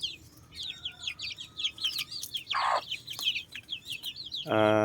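A brood of one-month-old native chicks chirps in quick high peeps while a mother hen gives low clucks close by on open ground, ending in a louder harsh hen call.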